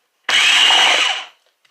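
A brief loud whirring burst of a blender churning thick milk pudding, lasting about a second before cutting off abruptly.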